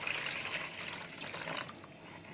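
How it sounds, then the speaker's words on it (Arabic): A kitchen tap runs into a bowl holding leftover fish marinade of lemon and vinegar, giving a steady close splashing hiss with a few drips near the end and no talking. "واجيب كده شويه ميه كده من الحنفيه"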